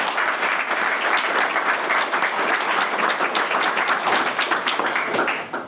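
An audience at a public presentation of Slovenia's space strategy applauds its team, with dense, steady clapping from a sizable crowd that stays even and close throughout.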